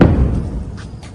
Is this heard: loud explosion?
yes